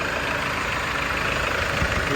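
A Hyundai car engine in poor condition idles with a steady, close, unbroken rumble and no voices.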